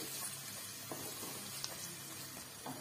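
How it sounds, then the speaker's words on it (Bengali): Chopped carrots sizzling in a pan with onion and garlic, a faint steady frying hiss broken by a few soft spatula stirs, with no speech. "তারপরে গাজরটাকে ভালো করে একটু নাড়াচাড়া করে নিতে হবে।"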